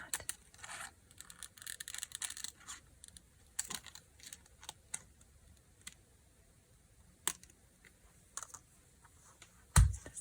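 Scissors fussy-cut paper for a junk journal embellishment in sparse, close snips and small rustles, quiet and irregular, with a louder thump at the end.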